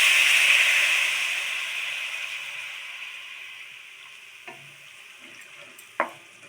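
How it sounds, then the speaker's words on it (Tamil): Jaggery syrup is poured into grated coconut roasting in ghee while making aval ladoo, starting as a loud bubbling sizzle that gradually fades, followed by a couple of sharp utensil clinks. "வெள்ளைப்பாகும் ஊற்றியாச்சு"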